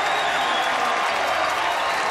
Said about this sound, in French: On les applaudit, allez!